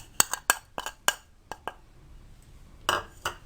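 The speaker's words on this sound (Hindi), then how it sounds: "इसको खूब अच्छी तरह से आप मिक्स कर लें।" A spoon mixes masala into BBQ chicken karahi, giving a quick run of sharp metallic clinks against the pot, close and crisp, then a pause and two more clinks, with no voices.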